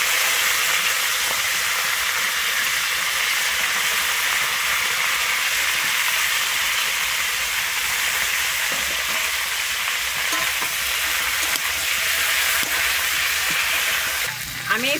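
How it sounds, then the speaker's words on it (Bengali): Cauliflower pieces frying in oil after fish, a dense continuous hiss of sizzling with occasional stirring scrapes, close and steady with no talk. "আমি ওই তেলের মধ্যে এবারে আমি ফুলকপিগুলোকে ভেজে নিচ্ছি"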